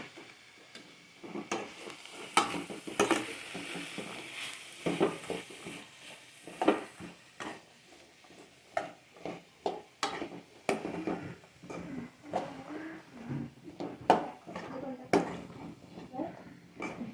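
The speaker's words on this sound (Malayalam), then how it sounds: "അപ്പം നമുക്ക് പയറും കൂടി ഇട്ട് കൊടുക്കാം. എന്നിട്ട് നല്ലപോലെ ഇളക്കാം." Green beans for a payar thoran stir-fry stirred in a pan with a spatula: irregular, close scraping and tapping strokes, with a low voice murmuring now and then.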